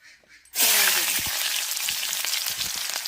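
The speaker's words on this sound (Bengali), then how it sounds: "এটাকে ভেজে ওই তেলে তেল গরম হয়ে গেছে" Kan fish seasoned with turmeric and salt drops into hot oil and bursts into a loud, steady sizzle and crackle of frying that continues without pause, close up.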